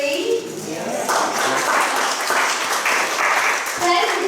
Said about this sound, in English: Thank you, 5 people who clapped for me